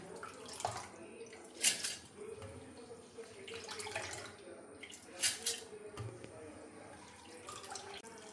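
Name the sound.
pouring water onto soaked rice for idli batter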